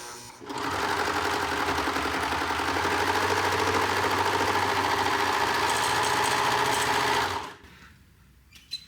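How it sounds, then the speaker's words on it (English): A serger sewing machine stitches and trims a fabric edge in one steady, close, loud mechanical whir lasting about seven seconds before stopping abruptly, followed by quiet handling noise. "And the serger also has a pedal just like the machine."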